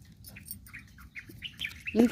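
Several short bird calls and squawks ring out in quick succession, fairly close, with a louder burst at the end and voices underneath.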